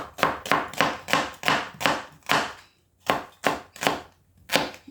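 A knife chops vegetables into batons on a board, about a dozen crisp, evenly spaced strikes close up with one short pause midway, no talking.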